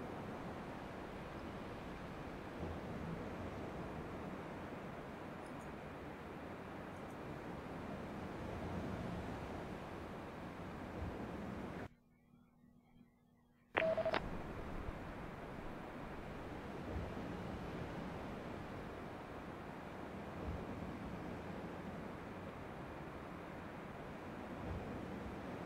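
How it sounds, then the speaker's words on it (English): Waves wash steadily onto a shore in the video game Dear Esther, a soft, continuous surf rush mixed with wind, faint and without voices, with a short silent gap partway through. "Okay, I can hear the waves."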